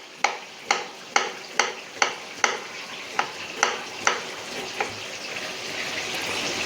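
Chicken pakoda frying in hot oil gives a steady, moderate sizzle, punctuated by about a dozen evenly spaced sharp taps of a utensil against the pan before the hiss continues alone.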